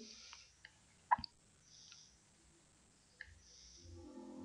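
Computer mouse clicking while navigating a budget control dashboard, a few faint isolated clicks spaced apart with a brief double click, soft and close in a quiet room.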